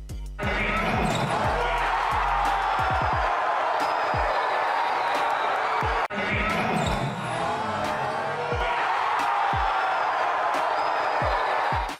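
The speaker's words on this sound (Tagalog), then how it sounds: "Hiyawan ngang mga tao dito." A basketball crowd roars and cheers around a Kyrie Irving slam dunk, with repeated sharp ball bounces on the court and swelling noise in two bursts.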